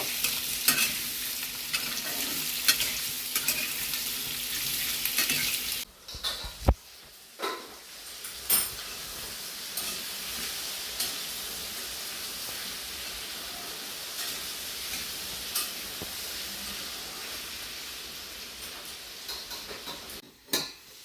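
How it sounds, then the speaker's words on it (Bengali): Potatoes fry in a pan in steady, fairly loud hissing sizzle, broken by occasional clinks and scrapes of stirring, with a brief drop near the middle before the frying noise resumes and continues to the end. "আলুগুলোকে আমি ভালো করে ভেজে তুলে নেব।"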